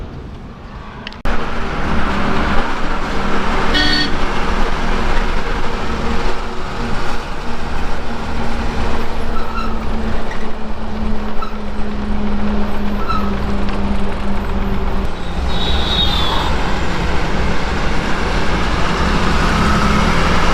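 A 2017 model truck drives along a road, its steady engine drone and road rumble continuous and loud throughout after a brief quiet start, with no talking.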